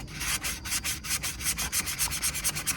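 Sandpaper rubbed by hand over an AC delete panel for a G-Body car, giving close, rhythmic back-and-forth scratchy strokes at a steady, fairly quick pace with no talk over them.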